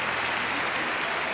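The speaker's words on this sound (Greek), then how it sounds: "Παρακαλώ ένα χειροκρότημα για τη φετινή στάρ Ελλάς 1994." Audience applause for the newly crowned Star Hellas 1994 at a Greek beauty pageant, a steady, fairly distant wash of clapping from a crowd that holds evenly throughout with no one speaking.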